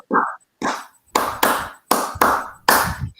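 A group of adults at a school counseling training session claps in sharp bursts, mostly in pairs: one quick clap, then about five loud, close two-clap groups with short pauses between them and no talk.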